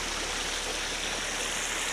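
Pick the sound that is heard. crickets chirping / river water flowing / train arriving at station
river water flowing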